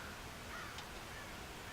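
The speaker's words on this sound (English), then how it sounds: "God damn crows!" Crows cawing in the video game Red Dead Redemption, a faint, brief distant call heard over a steady background hiss, with no talk.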